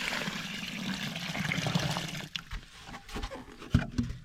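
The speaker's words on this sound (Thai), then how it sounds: "ลูกให้เทน้ำลงก่อน" Water pours and gurgles for a couple of seconds, then tapers into scattered drips and small splashes.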